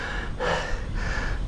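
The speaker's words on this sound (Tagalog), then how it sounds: "Medyo hinihingal tayo." Heavy panting breaths of a cyclist resting after a long uphill ride in the hills of Runruno, Quezon, Nueva Vizcaya, a few close, loud gasping inhales and exhales with no talk.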